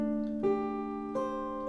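Jazz guitar phrase with sustained, harmonically rich notes, a second note picked at about 0.45 s and a third at about 1.15 s, each ringing on clearly and alone with no talking.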